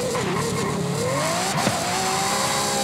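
A car launches with wheelspin in Forza Horizon 5, its engine rising and wavering in pitch alongside tire squeal, loud and close, with a short sharp burst midway and no talk.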